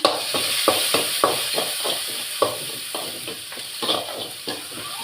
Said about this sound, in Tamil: அதுக்கப்புறமா கட் பண்ண வெங்காயம், வதக்கிக்கிடலாம்